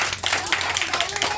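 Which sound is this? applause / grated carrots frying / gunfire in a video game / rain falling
applause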